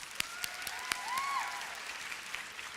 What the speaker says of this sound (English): Please give a round of applause to your teachers.